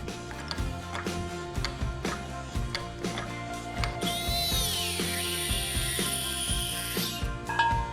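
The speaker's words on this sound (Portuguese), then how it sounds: "ele é um curvador industrial, notem que é uma parede grossa de tubo e ele vai fazendo a curva do jeito que eu desejo" An industrial manual pipe bender works a thick-walled tube, making repeated ratcheting clicks and clanks in a steady rhythm, with a squealing metallic strain partway through.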